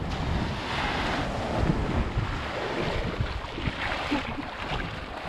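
Sea waves wash against the shore near Benagil Cave as steady wind buffets the microphone, a continuous rough roar of surf and gusts with no voices.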